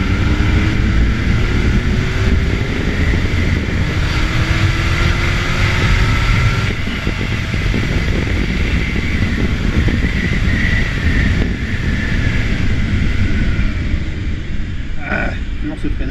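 A 2008 Kawasaki ZX-10R sport motorcycle engine drones loudly and steadily as it opens to full throttle from 2000 rpm, rising in pitch with wind buffeting the microphone; someone talks over it.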